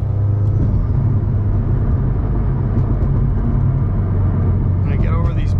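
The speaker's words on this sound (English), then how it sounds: "When I get over these bumps." A 900hp Subaru STI with a MoTeC ECU rolls over road bumps, heard from inside as a steady loud low engine and road rumble throughout, with faint thumps and a brief higher whine near the end.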